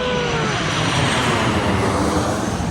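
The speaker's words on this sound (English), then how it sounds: "The plane is flying over." An airplane passes overhead near a small mall in Dublin or Rome, a loud, steady broadband engine roar that holds for the whole stretch with a slowly falling whine, no voices.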